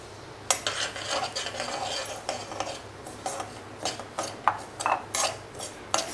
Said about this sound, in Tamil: அந்த ரவையை வறுக்க போகிறோம் அந்த நெய்யில்